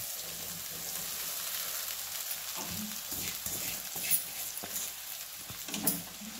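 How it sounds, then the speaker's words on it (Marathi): Soaked poha is tipped into roasted masala in a pan, giving a soft, low sizzle with scattered scrapes and a few sharper knocks as it lands and shifts; no talking. "आता आपण यात हे पोहे ओतूया भिजवून घेतलेलं"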